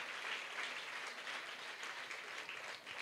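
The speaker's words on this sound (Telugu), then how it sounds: "ఫాదర్ గారికి మన యొక్క పుణ్యక్షేత్రం తరపున గట్టిగా చప్పట్లు కొట్టి అభినందనలు తెలియచేద్దాం" Audience in a church shrine applauding a priest after his novena sermon, a steady dense wash of clapping throughout with no voices.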